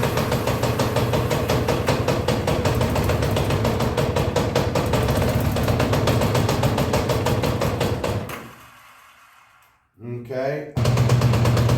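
A 1983 Honda Goldwing GL1100 engine runs rough on only one or two cylinders, firing in a rapid uneven chugging clatter that stays loud and close, cuts out near the end, then briefly restarts.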